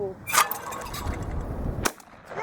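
Two sharp shotgun reports ring out outdoors during a clay bird shooting challenge. The first comes early and the second about a second and a half later, both sudden cracks that quickly decay into quiet background noise.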